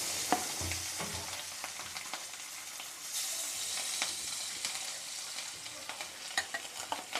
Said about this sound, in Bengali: এই যে মাছ ভুনার জন্য মাছটা সুন্দর করে ভেজে নিচ্ছি